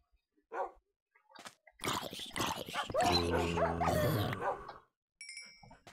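A dog in a hardcore survival video game barks in a rapid, loud, close burst of yaps and growly bow-wows, with scattered quieter sounds before and a tonal chime after.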